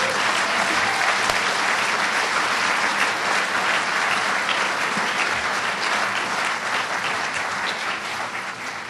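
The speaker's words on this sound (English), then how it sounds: "We applaud you for being here, and we applaud the rise of democracy in Latin America." Dense, steady applause from a large audience at a human rights awards ceremony fills the hall continuously and evenly, loud and close, with no voices rising above it.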